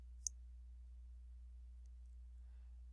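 A single sharp mouse click, very brief and close, then near silence with a low steady hum underneath.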